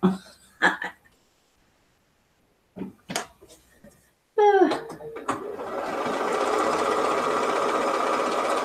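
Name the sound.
sewing machine stitching quilt block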